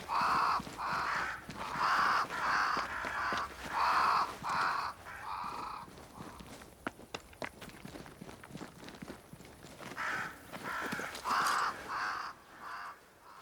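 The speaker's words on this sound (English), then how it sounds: "Crows. They flock to that great tree up there." Crows cawing in the video game Banishers: Ghosts of New Eden, a flock gathered around a great tree, with repeated harsh caws in rhythmic bursts, a quieter stretch of footsteps in the middle, then more cawing.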